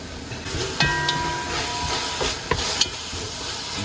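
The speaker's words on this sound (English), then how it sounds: "I stir." Pepper steak being stirred in a hot pan: a steady sizzling hiss with scraping stir strokes and a few sharper clinks of the utensil against the pan, close and alone.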